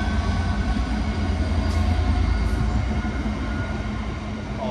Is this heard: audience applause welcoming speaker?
no